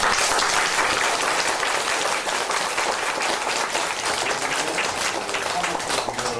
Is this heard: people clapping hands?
yes